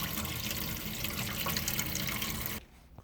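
Water runs in a steady stream from the tap of a 2019 Autotrail Apache 700 motorhome, a loud, close, continuous rush that cuts off suddenly near the end.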